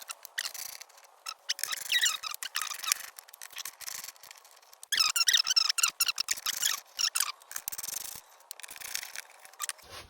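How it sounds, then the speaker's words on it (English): Torx 25 screws being undone on a Volvo 740/940 door pocket, a run of close, squeaky scraping and rubbing clicks of the driver turning, with no talking. "I'm taking a Torx 25 for this and"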